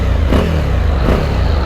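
A Suzuki V-Strom 1050DE adventure motorcycle's V-twin engine idles with a loud, deep, lumpy throb nearby, rising in two short blips of revs.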